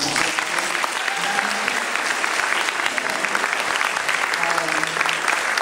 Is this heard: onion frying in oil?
no